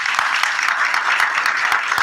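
Dense audience applause at a business summit, a continuous even wash of many hands clapping with no pauses.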